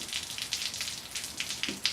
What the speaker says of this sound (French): On va mentionner aussi qu'on tourne à l'extérieur. C'est pour ça qu'on entend de l'eau couler à l'arrière d'une boucle pendant qu'il pleut.